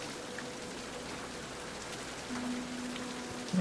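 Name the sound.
rain falling in video game King's Quest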